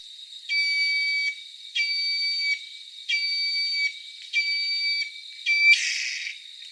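Whistling heron, a Brazilian bird, gives a series of five high, steady whistled notes in regular on-off pulses like a truck's reversing beeper, ending in a breathy hiss, clear and alone.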